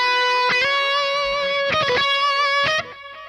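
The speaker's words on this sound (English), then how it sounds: "So now the sound is more clear with the delay further in the back." An electric guitar plays a sustained lead line with distortion, each bright picked note ringing out while a filtered delay trails softly behind, a few notes spaced over several seconds.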